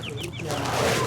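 Chickens clucking on a rural Lao home plot, short repeated calls up close over a steady outdoor background, with a voice speaking alongside.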